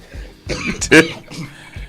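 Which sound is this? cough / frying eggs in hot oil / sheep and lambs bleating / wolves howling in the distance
cough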